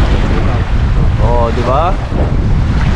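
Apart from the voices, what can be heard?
strong river current and waves at a fishing spot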